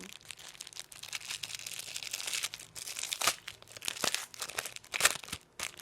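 A plastic bag packed inside another bag crinkles and rustles steadily as it is pulled open during a doll unboxing, close and continuous, with sharper crackles throughout.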